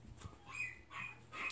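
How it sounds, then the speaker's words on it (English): A dog shut in its crate whimpers faintly, with a few soft, high whines rising and fading across a quiet moment and no talking. "you guys can see my dog, so she's in her crate for doing something"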